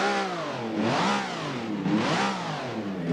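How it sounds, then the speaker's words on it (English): A fan-made car in a racing video game revs its engine in repeated rising and falling sweeps, a loud, choppy mid-pitched race-car-like snarl with no talking over it. "It sounds like a race car engine."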